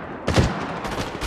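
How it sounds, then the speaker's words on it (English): Gunfire in the Apex Legends Mobile video game: a sudden loud volley of rapid shots bursts in near and continues as a dense, rattling barrage. "Taking fire! I am taking fire."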